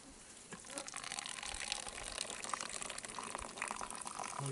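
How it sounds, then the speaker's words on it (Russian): Black tea with blackcurrant, Akbar brand, pouring steadily from a dispenser in a continuous hissing, trickling stream that gathers after a brief start and runs on at a fairly quiet level. "Наливаем чай Акбар"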